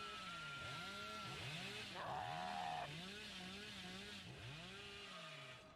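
Hillbilly's chainsaw in the Dead by Daylight game, a steady revving engine drone that rises in pitch midway and holds loud throughout, with wavering tone like a motor being throttled, heard without talk.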